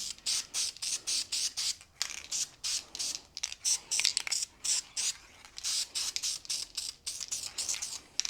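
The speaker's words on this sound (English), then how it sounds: "Spray paint over that boo-boo." Repeated short bursts of black spray paint hiss from an aerosol can over a repaired radiator on a 1970 Chevelle, pulsing on and off in a quick uneven rhythm, close up.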